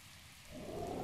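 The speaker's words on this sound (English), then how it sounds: "Can't see because it's raining." Rain falls in Zelda: Breath of the Wild, a soft steady hiss that swells louder halfway through, with no voices.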